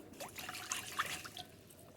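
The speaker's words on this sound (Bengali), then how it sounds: "মাপ মতো জল দেব" Water trickles from a measuring container into flour being prepared as roti dough, a short, soft, close pour with light splashing and no voices.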